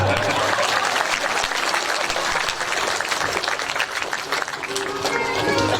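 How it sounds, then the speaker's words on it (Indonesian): Audience members at a Q&A session in an Islamic boarding school break into loud, dense applause that carries steadily throughout, with crowd noise mixed in. "Ya tepuk tangan dong."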